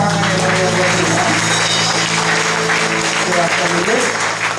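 Church congregation applauding at a worship service after a prayer, a steady dense wash of clapping that fills the whole stretch, with music or voices sustained underneath.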